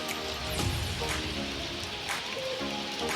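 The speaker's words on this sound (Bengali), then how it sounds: "বৃষ্টির আওয়াজ" Rain patters and splashes close by in Kolakham, North Bengal, with a few sharper drips and splats over a continuous wash of falling water.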